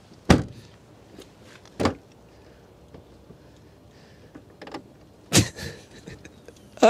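A car's inside trunk release lever is pulled and the trunk pops open, heard as a few sharp separated clunks and latch knocks with quiet pauses between, fairly close inside the vehicle.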